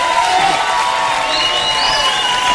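Loud, sustained applause from a television studio audience greets a singer, with clapping and scattered cheers blending into one steady roar throughout.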